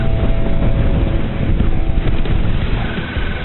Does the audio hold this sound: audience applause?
no